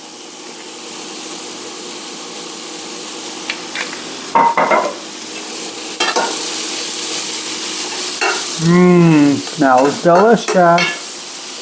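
Vegetables sauté and sizzle in oil in a pan for a cheesesteak casserole, giving a steady close frying hiss with stirring scrapes, and a voice speaks briefly near the end.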